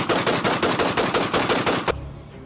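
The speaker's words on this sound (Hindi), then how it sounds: "गोलियां बरसाते हुए गांव वालों पर टूट पड़े।" Sustained automatic gunfire in rapid bursts fills a horror audio drama scene as soldiers open fire on villagers, loud and continuous for about two seconds before cutting off abruptly into a faint fading tail.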